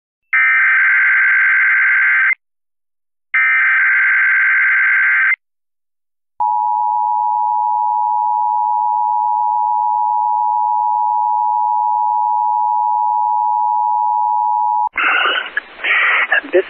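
Emergency Alert System test tones from a coordinated Pacific Northwest earthquake drill broadcast: two loud, identical two-second attention bursts separated by a gap, then a long steady single tone, ending in a brief burst of noisy static.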